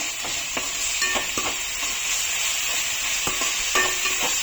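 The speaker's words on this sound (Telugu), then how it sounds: "అల్లం వెల్లుల్లి పేస్ట్ కొంచెం ఎక్కువ పడుతుంది వేసుకుందాము ఇది కూడా ఒకసారి ఫ్రై చేసేసుకుందాం మంచిగా" Ginger garlic paste sizzling in hot oil in a pan for Telangana-style chicken fry, a steady hiss broken by several sharp spatula scrapes and taps as it is stirred, close and moderately loud.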